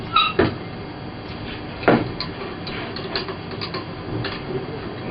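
Clunks and scraping clicks of a high viscous barrel pump being unscrewed by its left-hand thread, with two sharper knocks early on and lighter ticking metal contacts after, close and fairly quiet.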